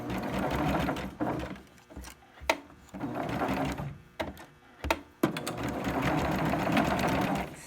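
A sewing machine back-stitches a fabric mask in several loud, close bursts of rapid mechanical whirring, separated by brief pauses and sharp clicks as the stitching stops and restarts.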